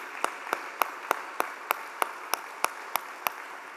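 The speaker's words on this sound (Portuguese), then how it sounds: "Dá uma salva de palmas para Jesus" A single pair of hands claps in an even, slow rhythm, about a dozen sharp claps at a steady pace, during a church sermon in which the congregation is asked to applaud.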